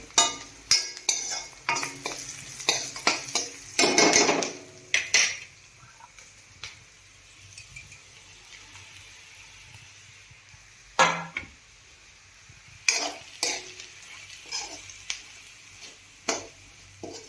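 A spoon scrapes and stirs crumbled chapati into a sizzling pan mixture for kaju matar masala, in irregular close metallic strokes with bursts of clatter and pauses of faint frying in between.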